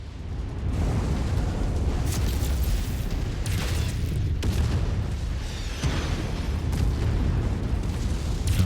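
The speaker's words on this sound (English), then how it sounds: "Dropping artillery on top of us." Artillery explosions in the MechWarrior 5 mech combat game, a dense, continuous barrage of booming blasts and rumbling impacts sustained at steady loudness throughout.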